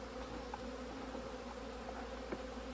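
Honey bees swarm around a queen-rearing hive box, a steady low buzzing drone with occasional faint clicks, continuous and fairly quiet.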